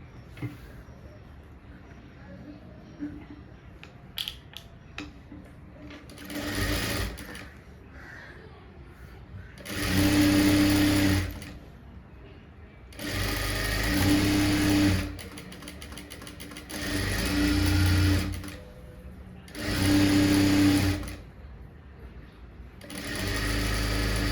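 A sewing machine stitches a blouse in a tailoring class. It runs in about six separate whirring bursts of one to two seconds each, with quieter handling sounds and pauses between them.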